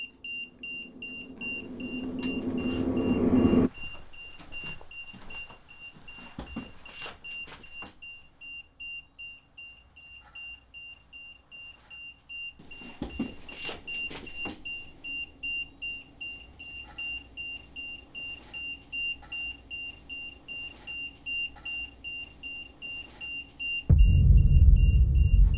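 A handheld EMF detector emits a steady high-pitched electronic tone through a quiet indoor room in an old house, with scattered knocks and rustles around it and a louder low rumble near the end.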